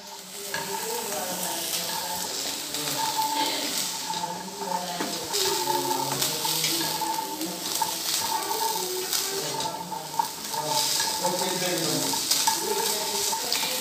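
About 250 grams of green peas fry in a pan, a constant close sizzle with the scrape and rustle of steady stirring throughout.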